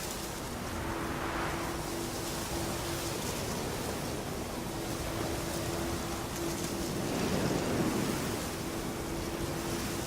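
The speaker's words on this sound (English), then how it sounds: "Winds howling." Steady, broad wind sweeping across an open landscape in The Witcher 3, a continuous hollow rush that swells slightly near the end, with a faint low tone humming beneath it.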